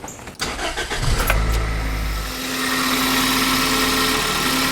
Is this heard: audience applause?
no